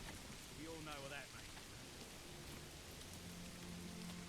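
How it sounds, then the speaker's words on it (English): Rain pours steadily in the medieval city-building game Manor Lords, a dense, even hiss holding across the whole stretch, with a faint voice and some low tones briefly under it. "He's realized it's raining and he is going home."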